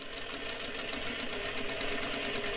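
Sewing machine stitching a tuck in pinafore fabric, a steady rapid mechanical whir with even needle ticks, close and continuous for the whole stretch.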